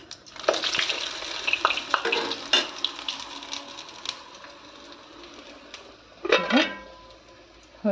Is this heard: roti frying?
yes